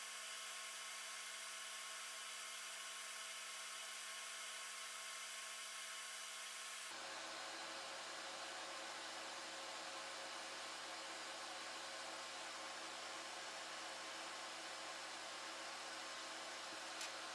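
A hot air rework station blows on a Nintendo Switch Lite circuit board at 430 degrees Celsius and 30% airflow, a steady loud rushing hiss that jumps to a fuller, stronger whoosh midway and continues unbroken.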